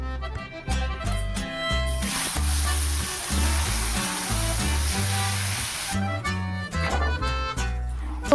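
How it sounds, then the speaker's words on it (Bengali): Eggplant slices fry on a stove with a steady, close sizzle that swells into a brighter hiss partway through, then settles back to crackling frying. "তো ওই উনানে বেগুন ভাজা চাপালাম"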